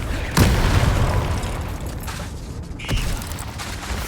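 The Confringo blasting spell in Hogwarts Legacy detonates with a sharp, close boom, then rumbles on before a second crack and ringing impact follows; no voices.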